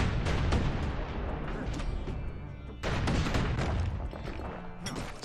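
Missiles and explosions from the video game Bastion, a dense run of booming blasts and crackling impacts, loud and continuous with a brief lull before another burst.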